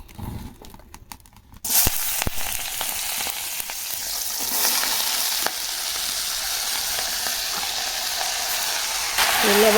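Taro (kochu) frying in a pan: after a quiet start, a loud, dense sizzle bursts in and continues steadily, with occasional clicks and scrapes of stirring, close up and with no voices.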